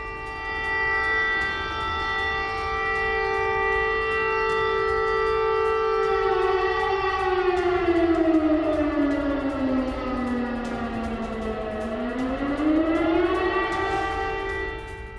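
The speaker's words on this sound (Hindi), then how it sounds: "वॉर सायरन किस तरह से बज रहे हैं आप सुन सकते हैं।" Civil defense air raid sirens wail across Kyiv during a Russian drone strike alert, one long, loud, steady tone that sags low and then rises again, sounding alone with no voices.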